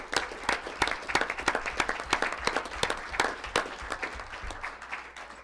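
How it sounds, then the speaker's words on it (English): Audience applause for a high school chamber choir at a school board meeting, a moderate room of steady clapping that tapers off toward the end. "Let's give them one more round of applause."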